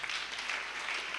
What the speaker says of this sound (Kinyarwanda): Nahaguruke gatoya tumukomera amashyi menshi.